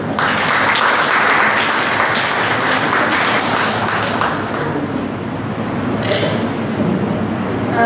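Applause welcoming teachers, including medical officers, at a Teachers Day celebration, a loud, dense, sustained clapping from a large crowd lasting several seconds with a brief ringing ping near the end.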